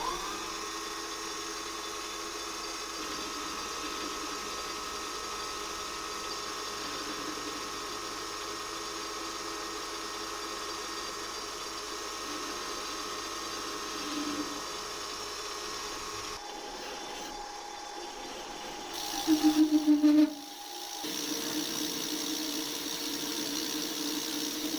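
A 9.9 mm drill bit bores a part for an electric lawn mower build, giving a quiet, steady motor hum throughout. The tone shifts partway through, and a brief louder squeal comes near the end.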